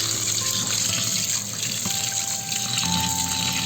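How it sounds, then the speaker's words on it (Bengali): Rice and lentils being washed under a running tap, a steady close gush of water splashing into a vessel, continuous and loud with no talk. "চালটা হচ্ছে ধুয়ে নিতেছি।"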